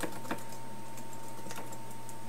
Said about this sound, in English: I can just reply by typing